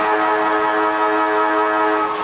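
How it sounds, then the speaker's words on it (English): Final siren sounding at an amateur Australian football league match, a loud, steady wailing horn with strong harmonic tones held continuously throughout with no talk over it. "There's the siren!"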